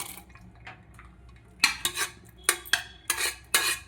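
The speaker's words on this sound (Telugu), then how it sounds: "ఇలాగా కొంచెం మిక్స్ అయ్యేలాగా తిప్పండి ఒక 5 మినిట్స్" A spoon stirs boiled chana dal and sago in a pot for payasam, with several distinct metallic scrapes and clinks against the pot coming in quick bursts after a quieter start, close by with no talk.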